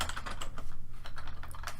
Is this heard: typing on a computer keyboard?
yes